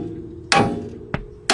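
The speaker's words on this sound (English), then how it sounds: "then hammered the stud upwards to break it free" Hammer blows driving a car's front suspension tie rod stud upward to break it free, three sharp metallic impacts at irregular spacing, close and loud over a low background hum.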